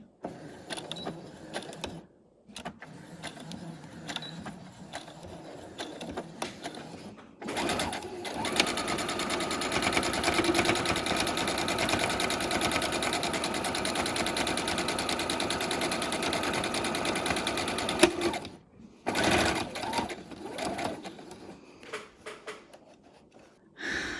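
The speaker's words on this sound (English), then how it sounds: "check what you're sewing as you go" A sewing machine stitches fabric for a floor turtle, with short mechanical runs followed by a long, steady whirring stretch and pauses between runs.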